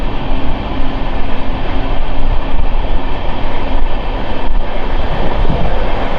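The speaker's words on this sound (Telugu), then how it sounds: "ఎంజిఆర్ చెన్నై సెంట్రల్ నుంచి న్యూ జలపైగురి వరకు వెళ్ళే ట్రైన్ ఇది." A long-distance superfast express train on the MGR Chennai Central to Charlapalli route, heard as a loud, steady rumble of rolling railcars that holds level throughout, with no voices.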